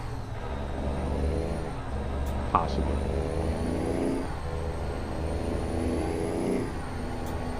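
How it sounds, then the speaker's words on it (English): A truck engine droning steadily in American Truck Simulator, a constant low hum with a short hiss of air brake partway through and someone talking briefly. "The truck sounds pretty good."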